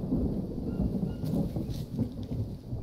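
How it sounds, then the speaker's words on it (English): Rain and thunder in the survival video game Green Hell, a steady low rumble rolling under a constant wash of rainfall, loud and close with no talking. "we'll let it rain real quick and get this going so I can mix it up"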